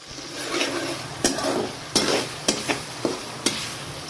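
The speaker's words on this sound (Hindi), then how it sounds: "इसको हम लोगों ने इतना ज़्यादा गोल्डन मतलब डार्क ब्राउन नहीं करना, हल्का सा सौते करना है" Onions sauté in a pan for dhaba-style mash daal, giving a soft steady sizzle broken by several sharp knocks of a utensil against the pan.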